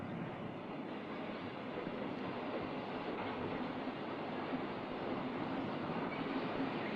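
Diesel-electric railway erecting train from the 1965 West Coast Main Line electrification, steel-carrying wagons with an 8.5-tonne crane, gives a steady low rumble of rolling wagons and engine that holds evenly throughout with no pauses.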